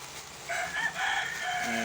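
A rooster crows in one drawn-out call, moderately close, over steady background noise.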